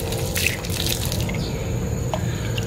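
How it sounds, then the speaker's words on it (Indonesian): Tap water runs steadily while hands are rinsed under it, a continuous close splashing wash with a few brief drips and no talking. "Saya cuci tangan dulu teman-teman di sampingnya"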